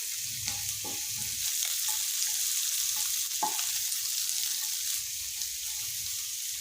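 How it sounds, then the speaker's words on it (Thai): Garlic sizzling in hot oil in a pan for Thai salt-and-chili shrimp; a steady bright hiss with scattered stirring scrapes and clinks, close and continuous, with no talk. "แล้วก็เจียวจนกระเทียมเขาหอมนะคะ แล้วก็สุกค่ะ"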